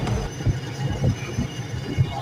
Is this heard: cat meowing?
no